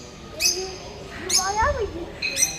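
Colorful parrots in an aviary give three sharp, bright calls spaced across the moment, each a quick harsh squawk, while someone talks nearby between them.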